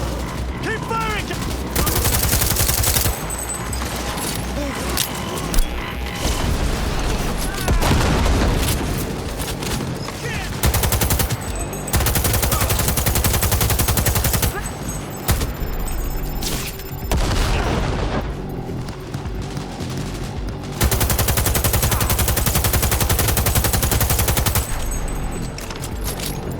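Dense gunfire from the video game Cyberpunk 2077 pounds in long loud bursts of rapid shots and booming blasts, with brief lulls between volleys and shouted voices mixed in.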